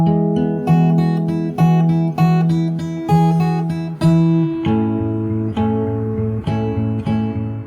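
Close fingerstyle acoustic guitar moves from the end of the bridge into the chorus of a song, ringing chords struck in a steady rhythm that shift to a new chord midway, with no talking.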